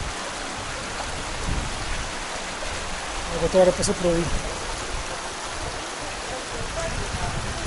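Water rushes beneath a bridge at a natural pool site in the Azores, a loud continuous roar and wash, with people talking briefly over it.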